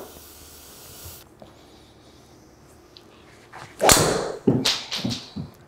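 Aerosol spray hisses onto the face of a golf driver in a few sharp bursts near the microphone, the first long and loud, then several shorter puffs after a quiet stretch.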